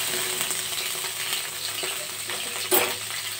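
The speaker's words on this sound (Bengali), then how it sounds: "সর্ষে শুকনো লঙ্কা ফোড়ন দিয়ে দিলাম।" Mustard seeds and dried red chilies sizzle in hot oil in a frying pan, a steady close crackling hiss with a brief louder spit near the end, with no voices.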